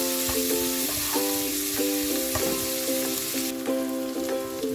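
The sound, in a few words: garlic sautéing in a pan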